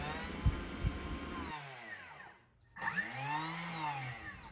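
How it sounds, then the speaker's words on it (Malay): Thermomix mixing bowl grinding 50 grams of sugar into powder on turbo, two short, loud whirring bursts with a falling-pitch spin-down between them and no talk. "Masukkan 50 gram gula ke dalam mangkuk adunan dan kita kisar halus menggunakan tebus selama 2 saat untuk 2 kali."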